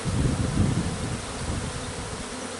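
A dense honeybee swarm hums steadily around a hive, a thick continuous buzz of many wings, fairly loud and close, with no voices over it.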